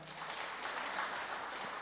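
Faint applause from the audience at a water conference closing ceremony honouring Paul Njeru, a soft, steady wash of many hands clapping at a distance.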